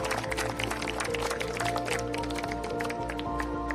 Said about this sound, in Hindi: ताली मारिए प्रभु के लिए।